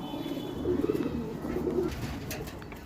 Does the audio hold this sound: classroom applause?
no